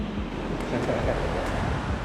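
Sea waves washing onto a beach make a steady, full rush of surf with a windy hiss, continuous and fairly close for the whole stretch.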